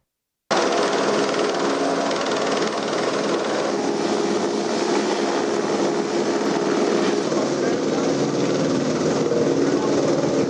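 A helicopter placing a pedestrian walkway onto its supports in Trieste, heard as a loud, continuous rotor and engine roar that starts abruptly and holds steady throughout.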